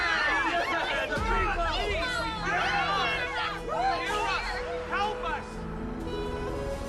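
An agitated crowd in the video game Honkai Star Rail fills the scene with overlapping voices. The murmuring babble is dense and continuous, and a few individual voices rise above the general hubbub.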